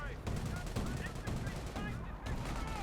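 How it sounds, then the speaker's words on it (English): Heavy machine gun fire in the strategy game Company of Heroes, a fast steady burst of rattling shots that runs throughout at an even, fairly quiet level. "Oh, and they've got a heavy machine gun."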